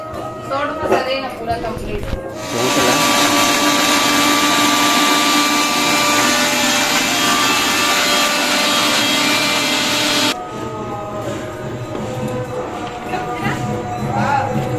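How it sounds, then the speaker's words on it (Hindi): A mixer grinder whirs loudly and steadily for several seconds grinding dry ginger, then cuts off abruptly, with voices talking before and after. "मिक्सी में कुछ पीसने वाला है"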